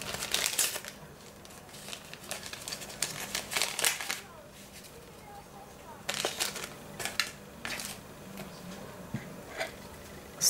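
Crinkling paper and plastic rustling in short bursts as a small packet of vanillin sugar is torn open and handled nearby while cooking, with quiet pauses in between.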